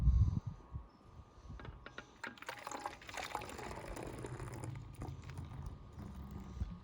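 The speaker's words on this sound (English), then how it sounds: "So let me pour this in." Liquid pours and splashes into a container at close range for an elephant's toothpaste reaction, a gurgling, fizzing rush building after a brief clatter.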